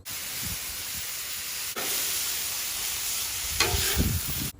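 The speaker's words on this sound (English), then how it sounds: "Saute some onions. Cook the meat. Season the meat." Meat and onions sizzle on a Blackstone griddle in a steady, close hiss, broken by a sharp scrape near the start and by louder spatula stirring toward the end.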